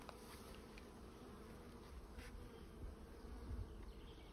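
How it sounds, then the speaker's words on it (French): Buckfast honeybees buzz steadily at an open hive during a calm inspection, a dense, continuous hum close by with no talking. "Donc ça, c'est de la variété, c'est la Buckfast."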